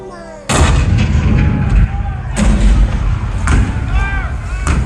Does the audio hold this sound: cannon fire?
yes